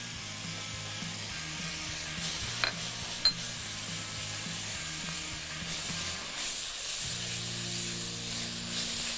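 Coloured bell peppers fry with onions in a pan, a moderate sizzle with a low hum underneath, two sharp utensil clicks partway through, and no speech.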